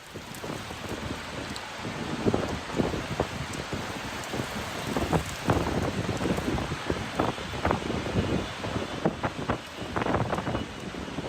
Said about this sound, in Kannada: ಮುಂಬೈನಲ್ಲೂ ಕೂಡ ಭಾರಿ ಮಳೆ ಆಗಿರುವಂಥದ್ದು